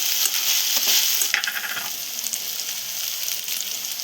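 Ginger garlic frying in a pan for a masoor dal and potato curry: a steady, bright sizzle close up, with a few stirring scrapes partway through.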